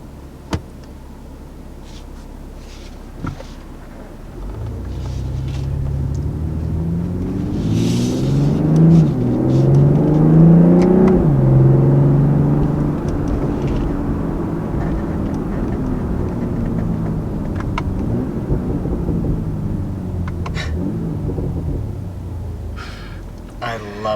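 A 2020 BMW M340i's engine burbles and rumbles while driving, swelling to a loud, throaty peak before settling into a steady drone, with faint voices underneath.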